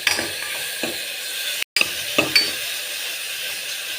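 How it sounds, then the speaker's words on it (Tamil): Ground paste sautéing in ghee, with soft sizzling and intermittent scraping and stirring clicks of a spoon in the pan, plus a brief dropout midway. "இந்த விழுதை இந்த நெய்யில் சேர்த்துக்கலாங்க. சேர்த்துட்டு ஒரு 10 செகண்ட் இதை வதக்கிக்கலாங்க."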